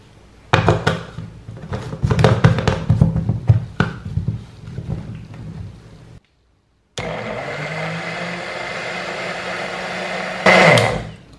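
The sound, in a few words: blender blending garlic clove and banana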